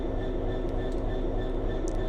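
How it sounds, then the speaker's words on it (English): Continuous low rumble of a train passing near a freight locomotive cab, steady and fairly loud, with faint high squeaks now and then. "oh, there's a train"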